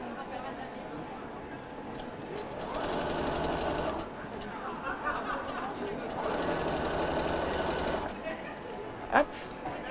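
Domestic sewing machine stitching elastic bias binding onto knickers, two steady bursts of rapid mechanical whirring and needle chatter, close and loud, with a short pause between runs and a brief clack near the end.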